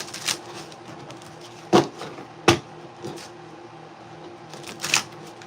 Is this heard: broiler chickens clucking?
no